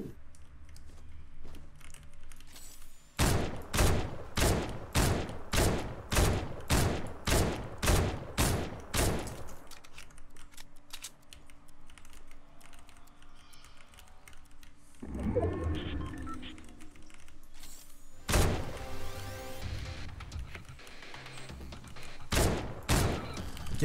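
Video game gunfire comes in a rapid burst of evenly spaced, loud shots, then a quieter stretch and a whooshing effect, followed by a few more scattered shots near the end.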